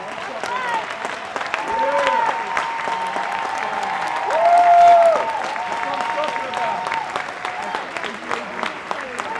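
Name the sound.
audience applause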